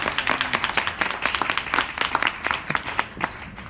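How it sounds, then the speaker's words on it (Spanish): Applause for a professor at a philosophy talk, a modest audience clapping with individual claps distinct and irregular, fairly close and steady. "Un aplauso al profesor Ganem."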